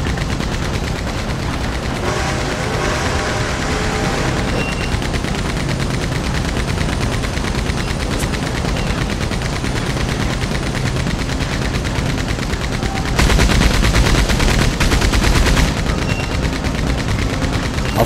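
Gunshots in Red Dead Redemption 2 Online, loud and steady rapid fire packed into a continuous stream, with a sharper, louder burst near the end.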